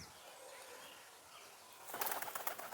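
Pet pigeons suddenly take off together, a quick, close burst of flapping wings that breaks a quiet, faint outdoor background in the last second.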